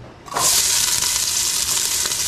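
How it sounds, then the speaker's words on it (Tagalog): Ginger, garlic and onion drop into a hot pressure cooker and burst into a loud, bright sizzle that starts abruptly and holds steady to the end, with no talking. "Mainit na po itong ating pressure cooker. Ilagay na po natin ang luya, bawang, sibuyas."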